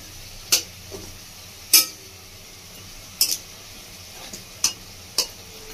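Fried red-lentil fritters being lifted from a pan, with a handful of sharp metallic scrapes and clinks of a spatula or slotted spoon spaced a second or so apart over a faint background sizzle.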